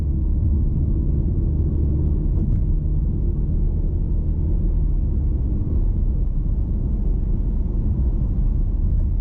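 A car drives at night under white street lamps, its engine and road noise forming a steady low rumble that stays constant and close from start to finish with no talk.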